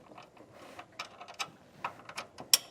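Metal-on-metal ratcheting from a wrench tightening the nut on a carriage bolt through brackets during a rear air helper spring install, a series of short close clicks in irregular bursts, fairly quiet.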